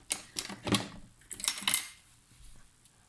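Scissors snipping paper craft card, a few sharp close clicks and crisp cuts in two short bursts, then quiet.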